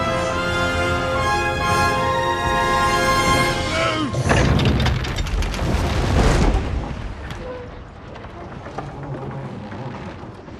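Battle in the video game Kingdom Come: Deliverance 2, with deep booming explosions and gunfire rumbling mid-clip over tonal music, while voices call out commands.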